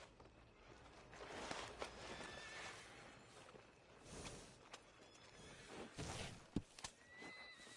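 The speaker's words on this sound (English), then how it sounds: "Are you gonna mount that new horse of yours or not?" A horse in a PS4 video game whinnies in several quiet bursts, with hoof clip-clops and soft movement sounds between them.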